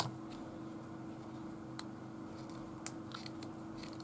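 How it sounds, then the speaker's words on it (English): Scissors make a few faint, quick snips while trimming silk thread on a handmade journal cover, small clicks over a quiet steady hum. "I think I need to trim that because it's got a bit of glue there"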